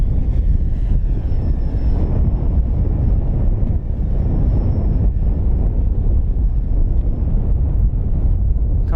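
An FMS Fox 3000mm RC power glider flies under motor power, a thin, steady electric motor whine held over heavy, continuous wind rumble on the microphone.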